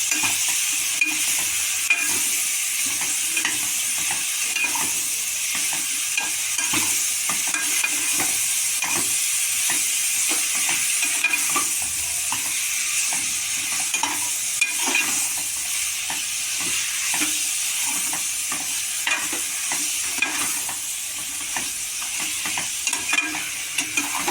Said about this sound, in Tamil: மஷ்ரூம்ஸ் போட்டு ஆக்சுவல் ஃப்ரை பண்ணுறது தான்